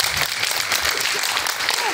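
Audience at a nighttime promotional event in Tezpur for the Assamese film Raghav bursts into sustained applause, dense hand clapping filling the whole clip evenly with crowd noise and some voices mixed in.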